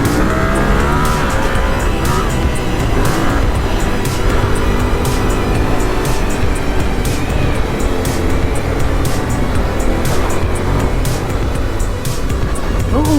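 A motorcycle rides along a backcountry dirt trail in Washington, its engine droning steadily up close with regular clicking ticks and rumbling wind and terrain noise throughout.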